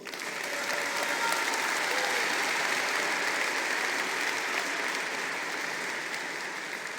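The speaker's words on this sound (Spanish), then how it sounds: "Un aplauso a Cristo." A church congregation gives sustained applause for Christ, a dense, steady wash of many hands clapping at close range that holds evenly throughout with no speech over it.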